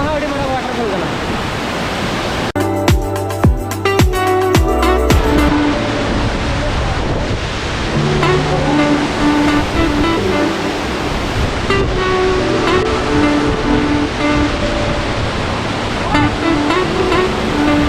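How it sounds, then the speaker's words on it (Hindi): A big waterfall in Mayurbhanj, a loud constant roar of rushing water heard close up, with people talking over it throughout and a burst of music or mechanical noise early on. "मरंग नोहा अड़ी मरंग वाटरफॉल कना"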